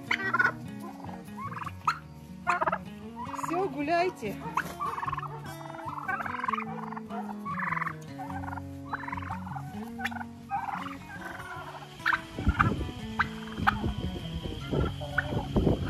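Turkeys gobbling repeatedly at close range in a poultry yard, loud bursts of wobbling calls throughout, with a brief spoken line near the end and clattering pecking sounds.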